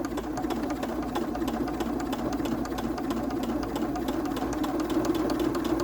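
A sewing machine stitches slowly through quilt layers of four fabrics and two battings, a steady mechanical hum with a rapid rhythmic needle tick, close and continuous.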